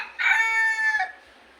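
A red junglefowl rooster crows once, a close, clear cock-a-doodle-doo lasting about a second against a quiet background.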